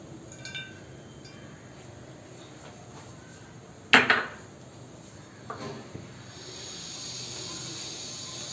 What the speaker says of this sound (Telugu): ప్యాన్ హీట్ ఎక్కింది, ఆయిల్ వేసుకుందాం.